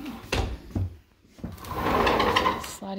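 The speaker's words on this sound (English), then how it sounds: "Sliding door." A sliding pocket door rolls along its track in a house, a steady rumbling glide of about a second, with a few nearby knocks and thumps before it and a brief clunk at the end.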